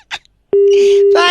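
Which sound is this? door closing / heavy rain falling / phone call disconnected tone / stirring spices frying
phone call disconnected tone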